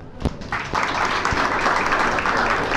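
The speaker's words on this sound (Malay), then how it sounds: "Tepukan kepada beliau." Audience applause at a Malaysian company awards night, a steady dense patter of many hands starting after a couple of brief thumps and filling the whole stretch at moderate loudness.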